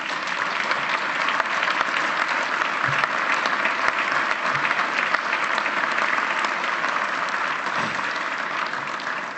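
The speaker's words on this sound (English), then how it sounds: "I wouldn't applaud too much." An audience applauds Maureen Jensen, head of the Ontario Securities Commission, at a finance event: a full, sustained roomful of clapping at an even level throughout, with no voices breaking through.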